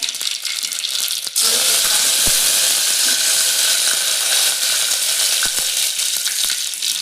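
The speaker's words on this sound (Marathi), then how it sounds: "पातेल्यामध्ये तेल घेतलेलं आहे त्यामध्ये घालायचं मोहरी जिरं" After a brief quiet moment, a loud, steady sizzle erupts as mustard and cumin seeds hit hot oil in a pot, hissing continuously with occasional small pops and crackles.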